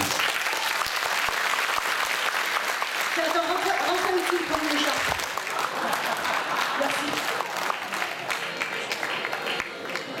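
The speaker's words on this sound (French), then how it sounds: "Tonnerre d'applaudissements, bien entendu." Loud sustained applause from a crowd at a 2014 amateur singing contest and prize-giving in Bain-de-Bretagne, with a voice speaking briefly over the clapping partway through.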